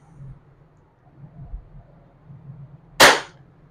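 A Rembo 35 airgun fires a single sharp, loud crack after a few seconds of quiet low background noise.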